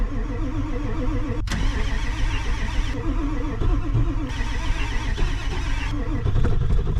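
A 7.3 diesel engine cranking and catching in a minus 43F cold start, a loud, steady low rumble with a rough, labouring beat throughout, close and dominant, with people talking now and then under the engine noise.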